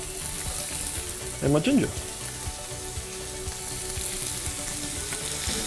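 Lamb pieces fry in a pan with onion, garlic and ginger for a lamb curry, giving a steady close sizzle throughout, with a short spoken phrase and a clatter of ingredients going in partway through.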